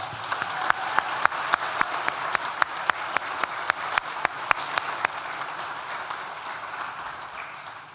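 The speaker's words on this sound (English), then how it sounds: "I think that deserves a round of applause." Audience at a university graduation ceremony applauds, a crowd's steady clapping with a few loud, sharp nearby claps standing out in the first five seconds, then a softer wash of applause continuing.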